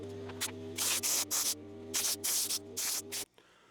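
Compressed air hisses in several short, loud bursts, blowing gunk off a Stihl 044 chainsaw near the sprocket, with a steady low hum underneath that cuts off at the end.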